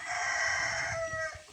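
A rooster crows on a Filipino farm with chickens and a carabao nearby, one long sustained call heard fairly close and clear above faint background noise.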